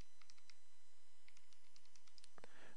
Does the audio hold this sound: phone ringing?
no